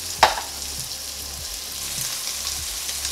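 Guanciale renders its fat in a pan over medium-low heat, a steady close sizzle and crackle opening with one sharp tap of a utensil, then a few soft scrapes, no voices.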